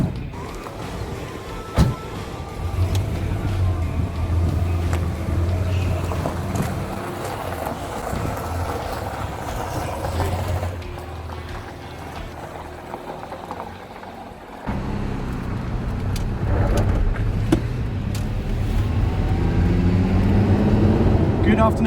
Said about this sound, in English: taking me out in the Ferrari Testerossa